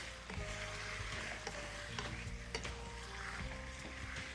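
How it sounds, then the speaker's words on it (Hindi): Chopped chicken stirred into garlic frying in a pan, a steady close sizzle with scraping, clattering stirs throughout and no talk. "उसके अंदर हमने ये जो चिकन काट के रखी है ये शामिल कर देना है और इस चिकन को हम करते हैं अच्छी तरीके से मिक्स"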